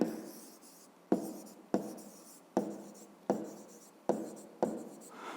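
Pen strokes scratch across paper while a maths exercise is written out by hand, coming in about seven short bursts that each start sharply and trail off, close and fairly quiet, with no talking.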